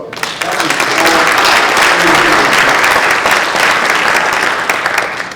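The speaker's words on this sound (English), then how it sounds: "how about a round of applause?" Loud, dense applause from an audience, rising quickly and holding steady for several seconds before tapering slightly.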